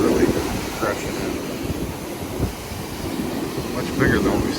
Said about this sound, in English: The waves are really crashing in.